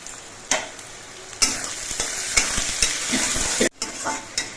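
Onions fry with salt in a pan, a loud close sizzle broken by repeated scraping strokes of a spatula stirring the pieces.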